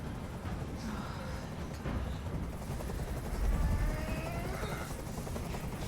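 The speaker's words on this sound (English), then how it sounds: "I can't stand that noise anymore. Tell that helicopter to get out of here." Steady helicopter rotor drone in the video game Detroit: Become Human, a continuous loud mechanical roar with faint rumbling bursts layered over it throughout.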